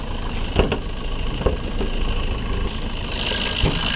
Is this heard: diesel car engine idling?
yes